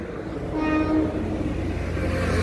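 An Alishan Forest Railway fourth-generation DL34 diesel locomotive running light on a test run in the Chiayi rail garage park, a low engine rumble with a brief tonal horn blast partway through, fairly close.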